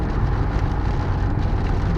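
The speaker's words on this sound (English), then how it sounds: "We're getting rain." Steady rain falls throughout, a dense, even hiss with no break and no voices.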